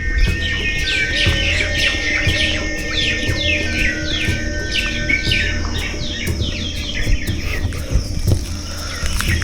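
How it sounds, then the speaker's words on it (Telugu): Birds chirp and tweet repeatedly at a daytime outdoor spot with wells, rapid overlapping calls fairly close over a steady ambient background, no talk. "పక్షుల సౌండ్లు అయితే కీచ్ ఉంటున్నాయి. ఒకసారి వినండి."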